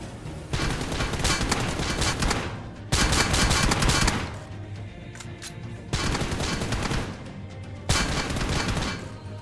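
UMP submachine gun fire in a battle royale game, with four long rapid-fire bursts of close, loud shots separated by brief pauses.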